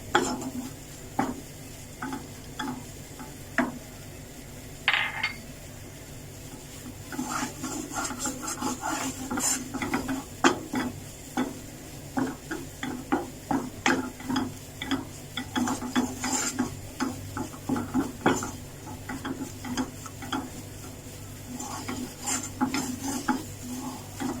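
Maida flour being roasted and fried in a pan, with repeated scraping and rubbing strokes of a spatula against the metal in a steady rhythm, continuing for a long stretch with no talking.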